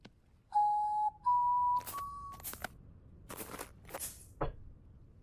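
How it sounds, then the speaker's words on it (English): A character whistles in the survival game Vintage Story, two clear sustained tones rising in pitch, followed by a few short rustling and clicking game sounds, alone without talk. "I wanted to whistle."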